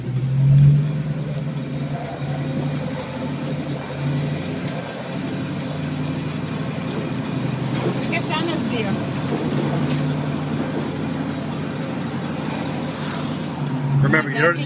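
Engine of a 1971 Ford Mustang Fastback project car while driving, a steady low rumble heard from inside the car with occasional swells, under people talking throughout.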